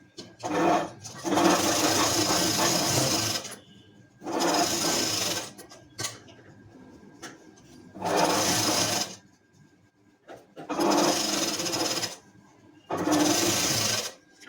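A sewing machine stitches net fabric lining onto canvas in five separate runs, each lasting one to two seconds, with short quiet gaps between them. The whirring is loud and close, and no one speaks.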